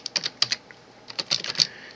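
Fingers type quickly on a computer keyboard, a close, crisp clatter of keystrokes in two short bursts separated by a brief pause.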